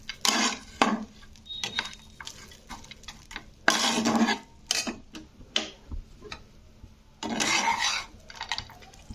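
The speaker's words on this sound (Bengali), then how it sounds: "তো দেখো পুরো বাদামটা কিন্তু বিটরুটের সঙ্গে আমি একটু নেড়ে চেড়ে মেখে নিয়েছি।" A spoon stirs beetroot and peanuts in a pan, giving a few scraping, clattering bursts of stirring with quiet pauses between them.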